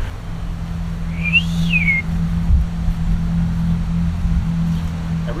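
A person whistles a single short rising-then-falling note during a trailer restoration for a quad hauler, over a steady low engine-like drone.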